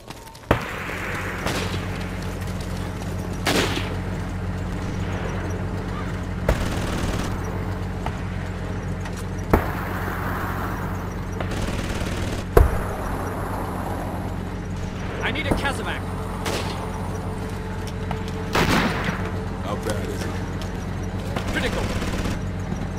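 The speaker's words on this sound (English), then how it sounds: "Hostiles in the area. Small arms fire." Small-arms gunfire in the 2004 tactical war game Full Spectrum Warrior, scattered sharp shots and short bursts cracking over a steady low rumble, with voices talking in between.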